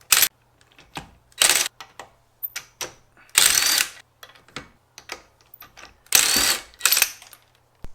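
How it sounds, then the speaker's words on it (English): An impact wrench rattles off wheel nuts on a Toyota MR2 SW20 in several short bursts, with clicks and clanks of handled nuts and tools between them. "Getting the impact wrench has probably been one of the best decisions ever."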